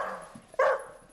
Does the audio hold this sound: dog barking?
yes